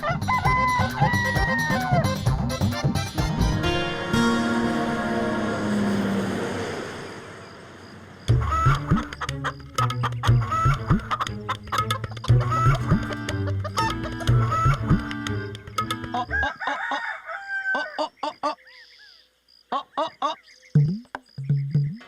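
A rooster crows loudly and at length, then clucks and squawks in short choppy bursts that are close and prominent before trailing off near the end.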